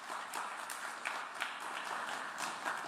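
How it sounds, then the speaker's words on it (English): Applause from a conference audience at a network operators' meeting, a soft, distant patter of many hands clapping, steady and fairly faint throughout. "I think that deserves a round of applause."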